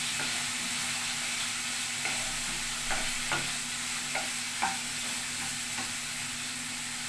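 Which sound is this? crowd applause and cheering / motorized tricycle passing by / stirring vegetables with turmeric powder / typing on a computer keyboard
stirring vegetables with turmeric powder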